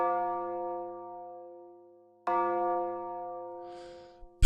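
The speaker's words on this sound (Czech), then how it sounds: "A tu se náhle v sametové síni ozve úder ebenových hodin" An ebony clock in a velvet-hung hall strikes two resonant, bell-like chimes. Each strike rings out and slowly decays, then a faint rustle and a sharp click follow.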